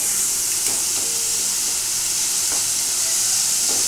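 Pumpkin halwa stirred in a pan, a continuous hiss and sizzle with a few soft scraping strokes of the spoon, close and steady, no voices.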